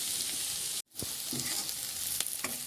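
Onions sauté in a pan for beef stew, a close, dense sizzle with a brief dropout early on and then light stirring clatters over the continuing hiss.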